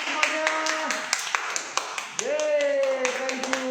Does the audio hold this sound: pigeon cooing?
no